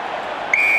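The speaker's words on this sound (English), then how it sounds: "Players haven't heard the whistle here." A referee's whistle at a 2005 All Blacks versus British & Irish Lions rugby test, a sharp sustained blast cutting in halfway through against steady crowd noise from the stadium.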